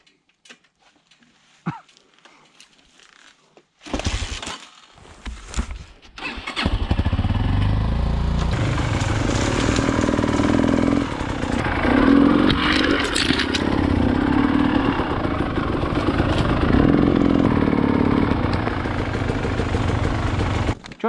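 Minsk X250 motorcycle engine kick-started on a trail by a stream, catching after a few sputters and then idling loudly and steadily close by for a long stretch.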